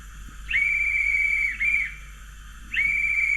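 Two short, clear electronic whistle blasts from a Rapido GWR 44xx model locomotive DCC sound decoder, each a steady high tone starting with a slight upward chirp, separated by a brief pause, over a low hum.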